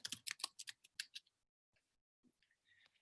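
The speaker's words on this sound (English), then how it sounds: "let's go ahead and type in our Google Scholar" Typing on a computer keyboard: a quick burst of crisp clicking keystrokes, then a pause and a few softer, scattered taps, close and quiet with no talk.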